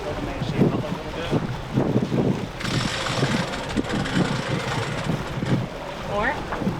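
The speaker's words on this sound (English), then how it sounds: "Just get through this little squall. That is gusty." Gusty wind squall buffeting a sailboat under sail, a steady broadband roar of wind with gust surges, close and loud, with a voice talking intermittently over it.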